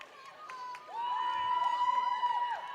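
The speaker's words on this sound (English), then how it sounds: "And the crowd cheers on Kieran Collins from behind" Crowd cheering at a men's college basketball game against ASU-Newport, a steady distant roar with sharp sneaker squeaks ringing across the court throughout.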